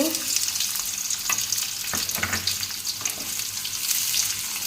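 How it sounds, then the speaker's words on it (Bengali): Sliced onions fry in oil into crisp birista for a potato biryani, a steady close hiss of sizzling with occasional clinks and scrapes of stirring throughout. "এই যে পেঁয়াজটাকে প্রথমে ভেজে নিতে হবে"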